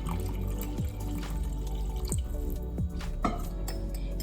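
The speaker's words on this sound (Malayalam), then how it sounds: "ഇതിലേക്ക് കുറച്ച് വെള്ളം ഒഴിച്ചു കൊടുക്കുക" Hot water is poured into a pot of beef curry, giving soft close pouring and bubbling with a few distinct drips and plops, quiet and with no talking.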